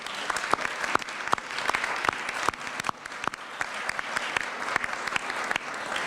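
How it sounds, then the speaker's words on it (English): A modest audience at a civic roundtable on free speech claps for the panel, individual sharp hand claps standing out close by over a softer spread of applause, steady and fairly light throughout. "How about a round of applause for our panel?"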